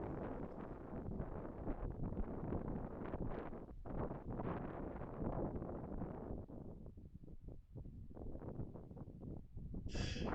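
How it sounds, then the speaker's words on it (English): Strong, blustery wind buffets the microphone beside a lake, a continuous loud roaring rumble that swells and dips without letup. "You can hear how bad the wind is"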